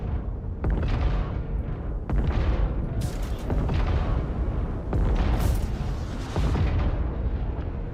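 A video game cannon fires single shots, one at a time, with five or six loud deep booms spaced irregularly over a rumbling background.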